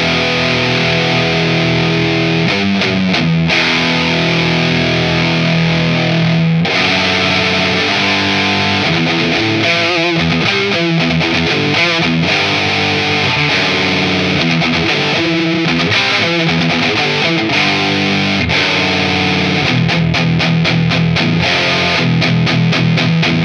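An electric guitar played through a cheap SB100 tube amp with treble raised and mids cut, giving a loud, heavily distorted tone with sustained chords and choppy riffs for over twenty seconds.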